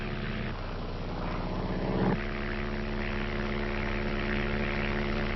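Two small propeller planes flying over rainforest, a steady droning engine hum heard from inside or nearby, continuous and even with a slight shift in tone early on, no talk.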